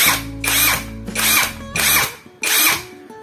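A cheap Hitachi impact wrench runs in bolt-loosening mode, giving four close, loud bursts of whirring and hammering, each lasting about half a second, separated by brief pauses.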